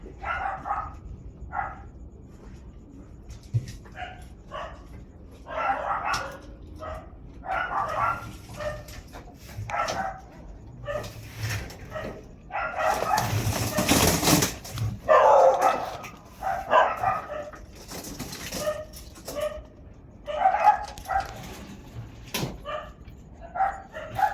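A dog barks repeatedly in short bursts throughout, fairly close, with a louder burst of noise partway through.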